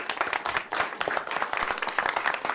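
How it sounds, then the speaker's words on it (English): A round of applause fills a county board meeting room, many hands clapping densely and steadily for the whole stretch at moderate loudness, with no speech over it. "So maybe one more round of applause for Yvonne"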